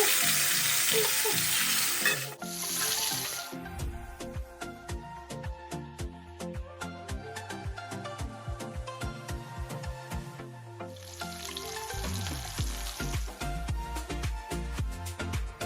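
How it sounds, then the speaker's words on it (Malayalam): Fish frying in oil on a tawa over a gas flame, a loud continuous sizzle with scraping and stirring clatter of a spatula repeating in quick rhythmic strokes, the hiss swelling strongly at the start and again near the end. "നമുക്ക് തവ വെച്ചതിന് ശേഷം നമുക്ക് മീനങ്ങ് പൊരിക്കാം."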